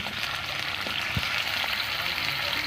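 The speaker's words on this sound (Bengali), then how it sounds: "তো আমি আলুর সঙ্গে কচুগুলো ভেজে নেবো হালকা করে।" Potatoes and taro pieces frying lightly in hot oil, a steady close sizzle and crackle with a few soft bubbling pops, no voices.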